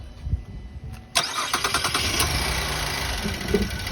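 A 2014 Buick LaCrosse with a newly replaced engine control module cranks and fires up after a quiet moment, settling into a steady, close idle with a faint rattle from an existing engine fault.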